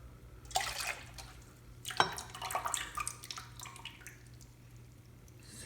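Water and buttermilk are poured into a bowl for homemade bread dough, producing soft splashing and trickling with a few drips and light clinks, quiet and close with no talking.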